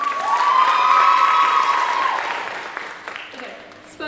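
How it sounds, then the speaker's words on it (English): An audience at an arangetram dance graduation applauds the dancers and their mothers: a dense burst of clapping and cheering from a crowd that swells quickly, then fades over a few seconds. "so big round of applause for them"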